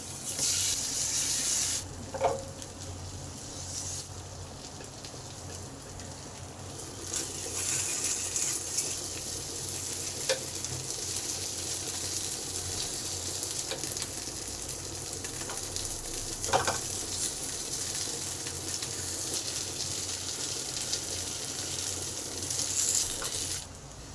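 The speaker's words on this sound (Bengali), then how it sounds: "এগুলোকে ভালো করে গরম করে নেব ভেজে নেব" Small snacks of egg and wheat flour fry in a pan as a steady, close sizzle with bubbling oil, broken now and then by scrapes and brief clatters of stirring.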